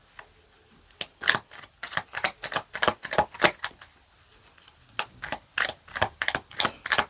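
Oracle cards shuffled by hand in a tarot reading, a rapid run of crisp papery riffles and slaps that pause briefly midway and then resume, close and clear with no voices.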